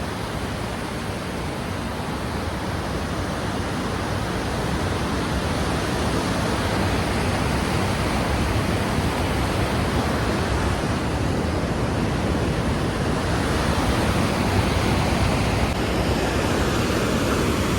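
Glacier-fed mountain waterfall near Hemkund Sahib, its water rushing in a steady, loud, broadband roar that fills the whole stretch without pause and with no voices over it.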